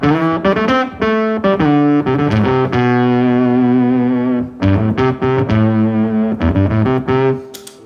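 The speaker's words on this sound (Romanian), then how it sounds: "dacă iei tonul de pe chitară și cânti cumva jos, sună ca un fel de urliță" Electric guitar played through a fuzz pedal with the tone knob rolled off, low notes ringing out in thick, distorted sustained tones, loud and continuous with brief pauses between phrases.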